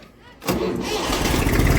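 Tractor engine starting on a farm, a sudden loud roar of the engine catching and then running steadily at close range.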